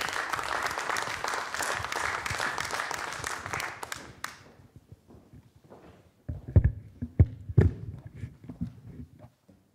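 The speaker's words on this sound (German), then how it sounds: "Applaus bitte." A crowd at a poetry reading applauds loudly for several seconds, the clapping fading out, followed by scattered heavier thumps and knocks.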